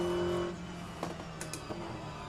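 An Aston Martin GTE race car in rFactor2 at Road Atlanta produces a low engine hum that fades after half a second, followed by faint brief bursts and quiet running.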